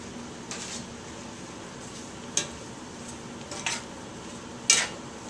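Onions sautéing in bacon grease in a pan give a soft, steady sizzle broken by a few sharp clinks of a utensil against the cookware.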